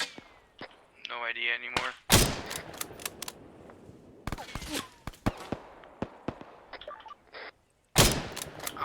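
Gunfire during a military simulation exercise, with sharp shots and short bursts ringing out at irregular intervals, some loud and close and others fainter, while people talk between the shots.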